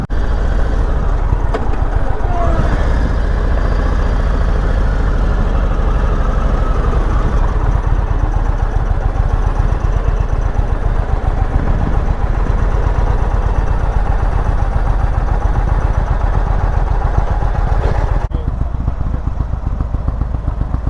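A 2021 Indian Chieftain Elite motorcycle engine idles steadily and loudly up close in Pensacola, Florida, a continuous low rumble with a dense rhythmic pulse that holds for about eighteen seconds before dropping slightly in level.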